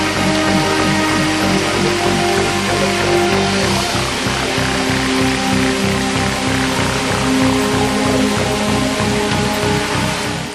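Heavy rain pours down in Kodagu during monsoon flooding and landslides, a loud, steady, dense downpour that holds for the full stretch with no break, alongside a sustained tonal hum.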